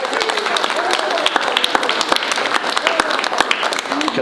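A middle school assembly crowd keeps up a continuous round of clapping with scattered voices and cheers underneath, busy and fairly loud throughout.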